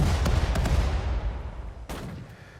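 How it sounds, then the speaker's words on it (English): Mortar and artillery fire in the war strategy game Sudden Strike 4, set in Singapore, with a dense low rumble of booming shots and a sharp blast near the end, no talking. "we can fire plenty of mortars over there"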